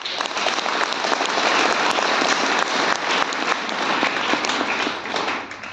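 An audience at a meeting applauds loudly and continuously, dense clapping from many people that stays strong for several seconds.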